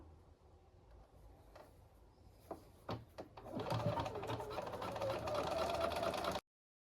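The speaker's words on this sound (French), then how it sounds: "Et on peut coudre le col à 1 cm de marge de couture." Sewing machine stitching a men's shirt collar, starting with a few clicks and handling sounds, then a steady close run of stitching that stops abruptly.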